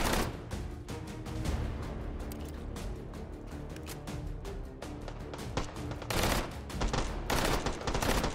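Rapid 9mm gunfire in the VR game H3VR: dense, loud bursts of shots crackle in quick succession throughout, with a few heavier booming volleys near the end.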